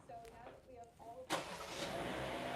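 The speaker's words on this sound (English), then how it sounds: "we're going to press and hold remote start" A few soft beeps are followed by a 2026 Hyundai Kona's engine cranking and catching via remote start, then settling into a steady idle hum.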